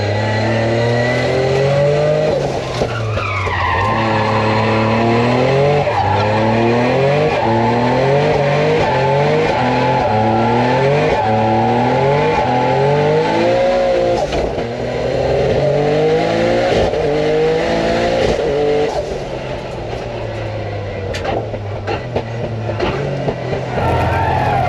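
A 500hp Toyota GR Corolla drift car is thrown sideways on its hydraulic handbrake, its engine revving hard in repeated rising and falling surges with tire squeal, loud and close throughout.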